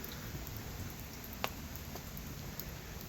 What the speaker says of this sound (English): it's raining good.